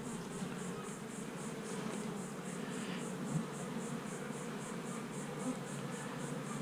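Honeybees from an opened hive drone in a faint, continuous buzz close by, with a faint pulsing whine running steadily above it and no talking.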